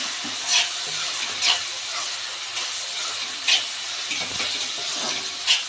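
Vegetables (cluster beans) sizzle in a hot pan while a spoon scrapes and stirs them in occasional sharp strokes, close by and without speech.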